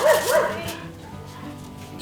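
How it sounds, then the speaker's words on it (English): Neighborhood dogs bark in a quick burst of a couple of yips and woofs, fairly close at first, then fading into quieter background noise. "the dogs in this neighborhood bark constantly"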